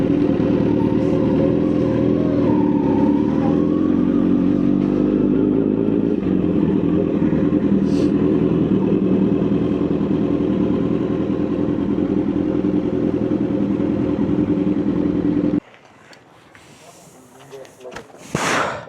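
A Kawasaki Z900 or Yamaha R15 motorcycle engine running steadily with a deep, loud drone for most of the stretch, then cutting out abruptly, followed by brief rustling and handling noise. Voices talk over the engine.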